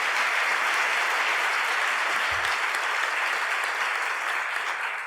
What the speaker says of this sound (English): You want to applaud them? Go ahead,